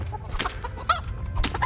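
Chickens in the video game Kingdom Come: Deliverance cluck in quick, close, moderately loud bursts, several clucks overlapping in a restless farmyard chatter.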